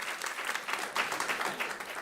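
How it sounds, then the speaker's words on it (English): An audience at a climate and agriculture policy event applauds as an American Farmland Trust vice president is introduced. The clapping is steady and moderately close, a continuous wash of hands from start to finish. "Give him a round of applause."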